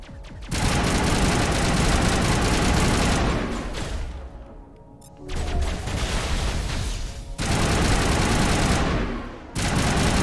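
Sustained bursts of rapid gunfire in Mass Effect, loud and dense, stopping briefly around the middle and resuming twice in long rattling volleys.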